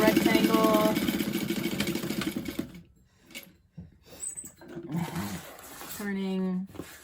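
A sewing machine stitches the top line of a rectangular bag lining, its motor whirring steadily for a few seconds, then pausing and starting again briefly, with a voice talking over it.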